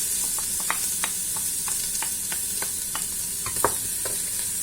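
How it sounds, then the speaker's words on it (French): Tomato purée hisses and sizzles in a hot pan over a Moroccan-style lentil base, while a utensil stirs with irregular scraping clicks and taps against the pan. It is close and moderately quiet, with no talking. "Je vais faire revenir tout ça pendant 2 à 3 minutes"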